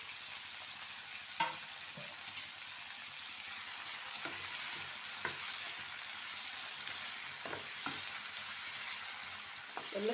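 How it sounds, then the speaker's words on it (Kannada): Three cloves of garlic and half an inch of ginger fry in a pan with a continuous soft sizzle, broken by occasional scraping stirs of a utensil. "ಎಲ್ಲ ಚೆನ್ನಾಗಿ ಫ್ರೈ ಆಗಬೇಕು"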